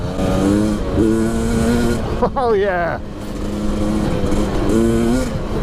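A Husqvarna TE300i two-stroke dirt bike engine revs in low power mode, rising and falling in pitch, loud and close, with a man's brief exclamation over it.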